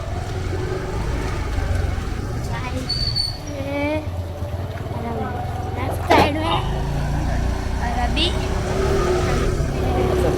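A car is driven along a village road past farmland, its engine a steady low drone with a brief louder surge midway, mostly under continuous chatter from several people.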